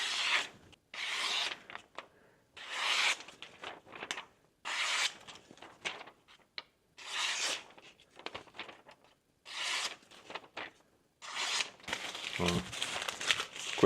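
Paper being crinkled and rustled while unboxing a subscription box of fixed-blade knives and gear, close bursts of crumpling and rubbing in irregular short pulses with brief pauses between.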